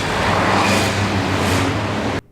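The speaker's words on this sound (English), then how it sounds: "Busy traffic," Busy London road traffic makes a steady, close roar of passing vehicles for about two seconds before it cuts off abruptly, with no voices.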